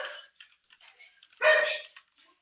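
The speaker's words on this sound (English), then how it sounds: "Sorry about the dog." A dog barks in the background, a few faint yips followed by one louder, longer bark, heard at a distance in a quiet indoor setting.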